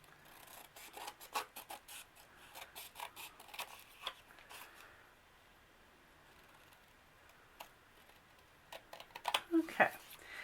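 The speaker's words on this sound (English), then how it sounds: "All right, so we're going to grab the scissors." Scissors snip a paper craft tag with a scattering of quiet, sharp clicks and rustles, the cuts bunched in brief flurries with pauses between them.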